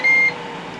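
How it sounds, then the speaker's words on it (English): A Ninja Foodi Grill XL timer gives a single short, clear electronic beep, loud and close, against faint background hum. "There we have again the Ninja beep to say that the 12 minutes is over"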